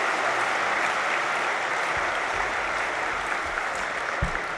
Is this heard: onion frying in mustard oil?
no